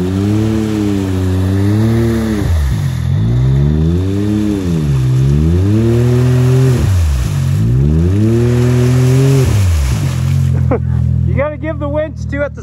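A Can-Am Maverick X3 engine revs hard several times in a row, its pitch climbing and falling in rising-and-falling swells, loud and close, before settling to a rough idle at the end.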